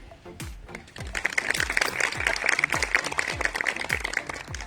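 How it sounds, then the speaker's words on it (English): A small group claps steadily at a school Diwali and Children's Day celebration, the sharp claps rising in volume and then continuing at an even pace. "let's give a big round of applause to our audience"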